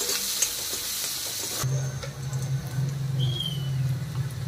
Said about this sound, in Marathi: आता हे सगळं साहित्य 2-3 मिनिटं छान परतून घ्यायचं